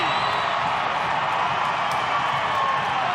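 A rugby league stadium crowd roars and cheers in a loud, sustained wall of sound with whoops rising above it, steady and dense throughout.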